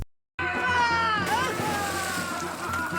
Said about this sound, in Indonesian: Para bandit itu pun lalu menyeret pria tua itu dan melemparkannya ke sungai.